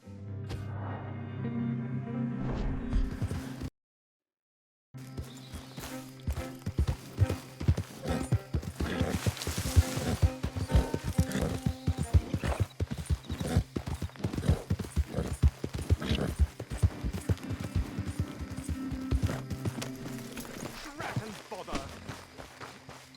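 Horse hooves in Red Dead Redemption 2 clip-clop in a brisk, steady rhythm, near and distinct, after a brief silent gap, continuing at length with occasional game background sound.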